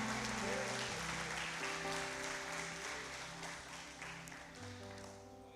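A church congregation claps steadily during a sermon, a dense wash of applause with a low hum of music or voices underneath, gradually easing off.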